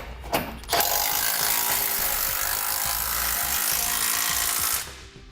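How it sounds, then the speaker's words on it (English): A ratchet socket wrench with a 17mm socket tightens bolts on a base plate kit, giving a fast, continuous clicking ratchet that runs for several seconds after a couple of sharp metallic knocks, then stops. "So with that done, we can tighten down our bolts now."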